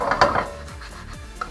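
A pancake flipped in a pan: a couple of soft scraping clatters of a utensil against the pan, then quiet low knocks as it settles, close and brief.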